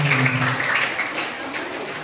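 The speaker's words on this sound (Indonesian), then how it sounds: "Ayo kita kasih aplaus dulu untuk" Audience applause at an Indonesian school health seminar, a brief, dense burst of clapping heard close and fairly loud throughout.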